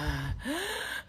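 A voice imitates heavy, wheezing breathing, giving one loud, rasping gasp up close, then a short hush before another breath starts.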